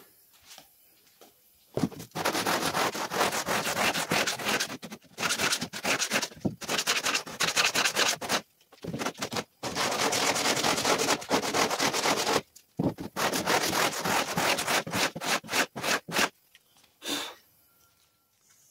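Bursts of abrasive rubbing, long back-and-forth strokes of a longboard sanding a sharpie sailboat hull during fairing, with brief pauses between passes.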